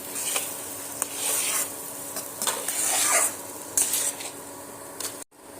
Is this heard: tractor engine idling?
no